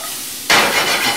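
Sliced onions cooking in a pan, turning translucent, with a sudden bright sizzle that starts halfway through and carries on steadily, close and fairly loud.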